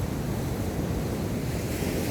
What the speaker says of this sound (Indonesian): Pasti ada yang membuat ombak ini sampai bersuara